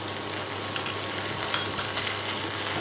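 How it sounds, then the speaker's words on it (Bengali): Chopped ginger frying with chana dal in a pan, a soft steady sizzle with faint crackles and occasional light stirring, fairly quiet and continuous. "আদা কুচিটাও দিয়ে দেবো"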